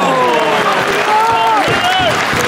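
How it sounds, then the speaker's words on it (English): Stadium crowd at a Fulham vs Brighton football match applauds in a dense, continuous patter, with voices and a few shouts rising over the clapping. "It's an applause."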